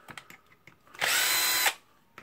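A power drill fitted with a screwdriver bit runs in one steady, loud burst of about three quarters of a second while backing screws out of a Dewalt D25123 rotary hammer during disassembly. A few faint clicks and handling taps come before and after it.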